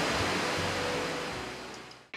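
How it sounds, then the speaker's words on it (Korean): Cool flowing water runs beside an outdoor breakfast spot in Turkey as a steady broadband rush. It fades gradually toward the end, and no one speaks. "시원한 물소리를 들으며 근사한 아침 식사를 즐겨봅니다."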